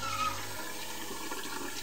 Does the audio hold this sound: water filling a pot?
yes